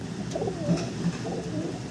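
A female racing pigeon coos softly in a low, rolling murmur over a steady background hum, close by and continuous through the short moment.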